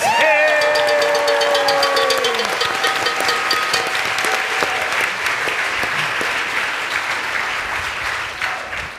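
Loud, dense applause from a crowd, steady for several seconds before gradually thinning out, with a few cheers mixed in at the start.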